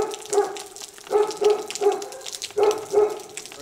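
Dogs at an animal shelter barking in repeated short bursts, paired woofs with pauses between them, fairly close and echoing slightly.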